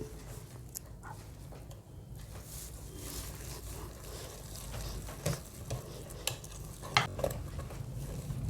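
Carrot and dates cake batter being stirred and mixed in a bowl, a steady soft scraping with occasional light clinks of the utensil against the bowl, close and continuous throughout.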